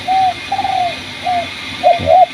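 A red collared dove coos close by, loud and clear: a short series of hoarse, rolling calls with brief gaps between them, the last two coming close together, with no voices.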